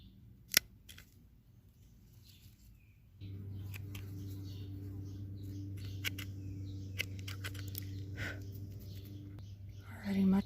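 Garden scissors snip through the stem of a struggling houseplant, a few sharp close clicks scattered among light handling noise, with a steady low hum and occasional faint chirps in the background.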